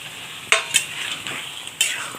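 A spoon scrapes and clatters against a pan in a few sharp strokes as pressure-cooked beans are stirred into faintly sizzling frying oil.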